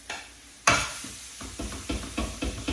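Beef mince sizzling in a pan over medium-low heat: a loud burst as the meat goes in, then a steady fry with repeated stirring scrapes at regular intervals.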